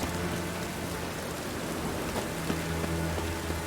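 In the video game The Witcher 3: Wild Hunt, rain pours in a steady, even hiss that fills the whole scene, with a faint low hum beneath it and no one speaking.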